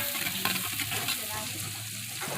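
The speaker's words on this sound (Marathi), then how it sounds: "कांदा चांगला फ्राय करून घ्यायचा तेल ओतलेलं आहे" Onion frying in hot oil over a wood-fired chulha outdoors on a farm, a close, busy sizzle with brief scraping stirs.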